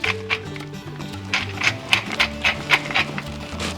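Crunchy bursts of a pepper grinder cracking black pepper in quick repeated twists, close and fairly loud over soft background music.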